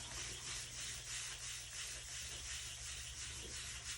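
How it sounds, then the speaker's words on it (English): A paper towel rubbing ink off crayon-resisted paper in a craft demonstration, a steady soft swishing rub repeating in even strokes, close and quiet with no talking. "And then we just come in and rub the ink off where the crayon is."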